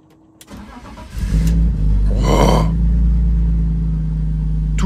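A BMW E46 325Ci convertible starting after months of winter storage: a brief starter crank, then the engine catching at once and settling into a loud, steady idle up close.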